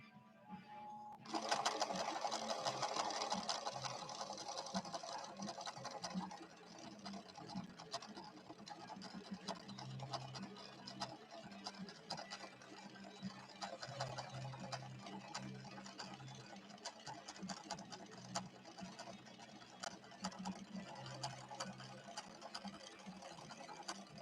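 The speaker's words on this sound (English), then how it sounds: "stitch on this very pretty red machine with this very pretty red Gutermann thread" A ruby red Viking Husqvarna 6460 sewing machine with a size 90/14 Schmetz universal needle and red Gutermann thread stitches steadily for over twenty seconds, a close, quiet mechanical whir with rapid ticking and a slight start-up surge.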